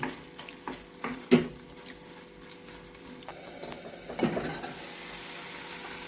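Tomatoes and tamarind are stirred in a cooking pot on the stove for a Kobbari tomato pachadi, with a soft steady sizzle and occasional scraping clinks of the spoon against the pot, close and fairly quiet.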